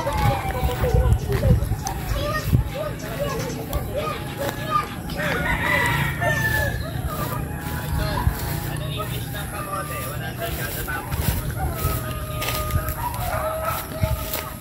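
Bantam roosters crow repeatedly amid a busy farmyard in Unisan, Quezon, with people talking and moving about close by throughout.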